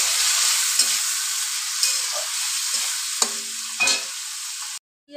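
Onions fry in hot oil until reddish, keeping up a steady sizzling hiss while a spoon scrapes and knocks against the pan in several separate stirring strokes before the sound cuts off abruptly.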